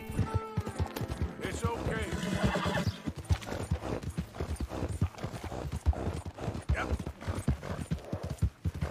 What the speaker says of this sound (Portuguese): deixa eu dar uma comida pro cavalo